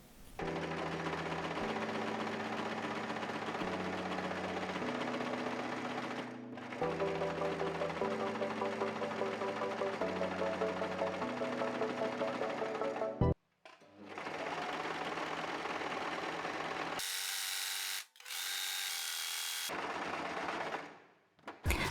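A sewing machine stitching a child's t-shirt runs in long steady bursts of rapid mechanical chatter, pausing briefly between runs, close and clear with no talking.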